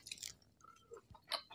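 Someone eats crispy pork in a Thai meal of spicy vegetable salad. There are a few faint, close crunching bites and chews in a quiet setting.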